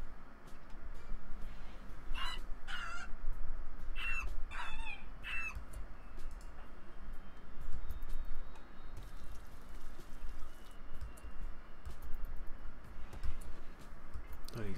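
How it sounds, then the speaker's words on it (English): Roosters in RimWorld give several short clucks and crows early on, fairly close, over a quiet farm ambience that carries on afterward. "please slaughter all these roosters"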